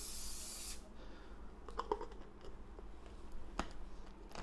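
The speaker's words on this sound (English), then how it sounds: "Just put in some spray oil." Cooking oil sprays from a can into a stovetop pan in a short faint hiss, followed by quiet clicks and handling noises.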